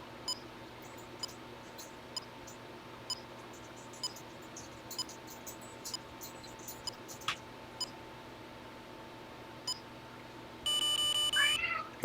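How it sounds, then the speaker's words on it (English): A cat meows indoors, a short faint call near the end, over a quiet room hum with scattered small clicks and ticks. "Got a cat down here"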